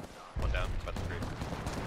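Bursts of rapid gunfire in a first-person shooter video game, loud and close, running continuously through a short moment, with a player's voice speaking over the shots.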